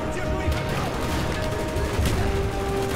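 Rapid gunfire from Call of Duty: Black Ops game combat, a dense, continuous barrage of shots and battle noise filling the whole stretch, with a player's voice faintly mixed in.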